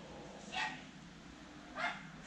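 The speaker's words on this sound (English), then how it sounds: "Now this dog is in the background all the time." A dog barks twice in the background, about a second apart, faint and distant against a quiet indoor room during a home workout.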